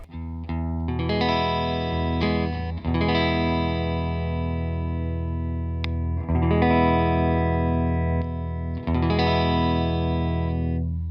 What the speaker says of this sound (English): Let's activate that S1 switch and get some single coil tones.